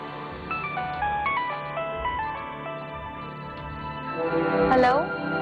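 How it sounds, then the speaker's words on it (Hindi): A mobile phone lying on a table rings with a melodic, repeating electronic ringtone that plays steadily and close, with a voice briefly speaking over it near the end. "ये किसकी कॉल आ रही है?"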